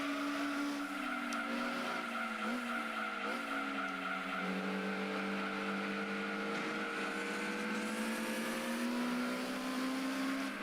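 Racing car engines from Gran Turismo 2, a Densosard Supra and an NSX among them, drone steadily with rising and falling revs throughout, with a few brief tyre squeals, loud and continuous without speech.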